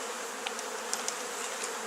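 Honeybee swarm inside a top bar hive, a continuous soft massed hum with a few faint individual buzzes flicking past.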